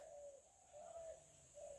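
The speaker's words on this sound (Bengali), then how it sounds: "এই ঘুঘু তো ডাকতে আছে, আলাপ পাস?" A dove coos from a village tree, three faint, evenly spaced hollow calls heard at a distance with no other sound around them.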